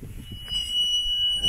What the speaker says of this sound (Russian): правда, ворота с сигнализацией.